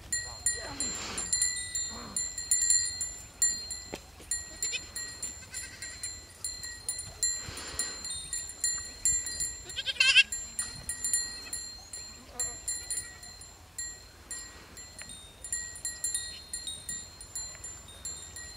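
Goats bleating repeatedly in a sheepfold, several calls rising over a steady background, with faint metallic bell-like tones ringing throughout; no speech.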